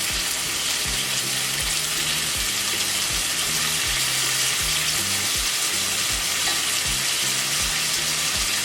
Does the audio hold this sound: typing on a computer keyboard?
no